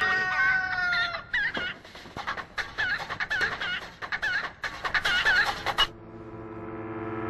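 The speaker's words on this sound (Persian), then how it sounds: "مرغ و خروس تو خونه است؟ نه آقا جون، از تو کوچه میاد." Hens and a rooster out in an alley beside a house, clucking repeatedly in an uneven run of loud, fairly close calls that go on for about six seconds and then stop.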